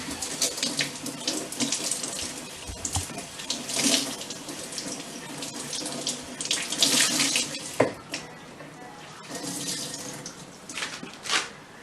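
Warm water runs steadily from a kitchen tap, a loud continuous splashing hiss into the sink with surges and small clatters as the flow shifts, close and without any talking.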